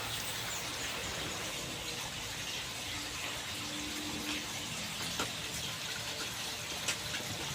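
Water from a water pump pours strongly into a storage tank, making a continuous, fairly faint gushing splash with no talk over it.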